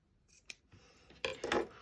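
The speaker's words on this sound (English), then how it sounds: "I think I'm just going to cut these off." Scissors cutting paper for a junk journal: a few soft snips and a sharp click, then louder rustling cuts close by near the end, with no talking.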